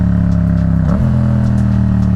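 A Yamaha FZ-07 motorcycle engine idles steadily up close, its pitch dipping and rising briefly once before settling back into a low, even rumble.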